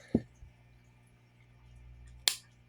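Two sharp, quiet mechanical clicks from a PUMA P9X19 pistol's trigger resetting, one near the start and one near the end, with a faint hum between them.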